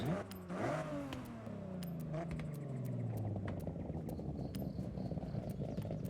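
A tuned car with an aggressive cam and about 448 horsepower in Forza Horizon revs and climbs in pitch, its engine note rising and falling with a lumpy, choppy idle character and steady mechanical drone.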